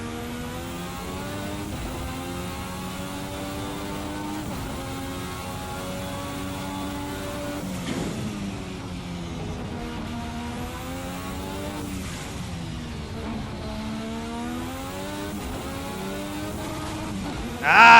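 Formula 1986 V6 race car engine in the Race Sim Studio simulator, a loud continuous turbo-style drone with rising and falling harmonic sweeps as it revs through gears across the lap, with a brief louder burst at the end.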